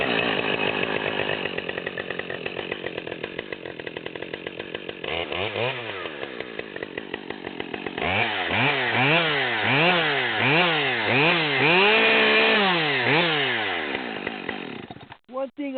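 A chainsaw, a Husqvarna 572xp or Stihl ms461, on a test run in a home garage, idling and then revving hard as it bites into wood, its loud whining pitch rising and falling in repeated cuts before cutting off at the end.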